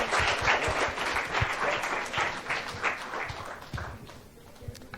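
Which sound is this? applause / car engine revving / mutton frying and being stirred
applause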